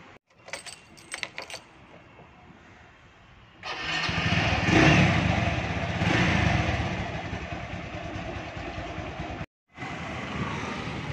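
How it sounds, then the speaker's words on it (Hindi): A motorcycle has its keys jangled, and then its engine starts and runs loudly and steadily up close for several seconds. The sound briefly cuts out, then the engine picks up again. "अभी चलो चलते हैं बाइक पर"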